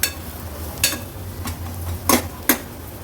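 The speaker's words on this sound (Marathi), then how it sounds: "हाय फ्लेमवर फक्त हे परतून घेते थोडंसं" Dry coconut masala paste sautéing in oil over a high flame for mutton paya soup, with a few sharp metallic scrapes and clinks of a spoon against the pan over a faint low sizzle.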